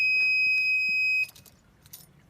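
Low coolant alarm fitted to an MGF / MG TF beeps as a loud, steady continuous tone for about a second, then cuts off, leaving faint rustling and clicks.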